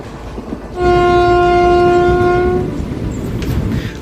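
A Palakkad to Chennai passenger train runs through Pudunagaram railway station, sounding one sustained horn blast of about two seconds over a constant close rumble of wheels and carriages.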